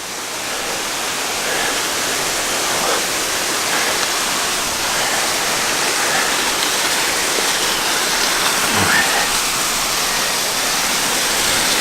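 A waterfall tumbling over mossy rocks, a steady, dense, broadband rush that stays even and loud throughout with no voices.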